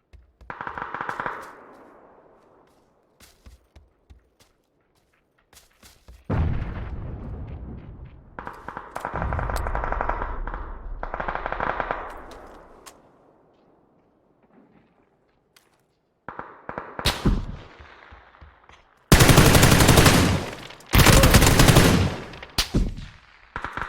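Kar98k bolt-action rifle fire in PUBG, several separate loud gunshot bursts with silent gaps between them, the strongest and harshest blasts coming late in the sequence.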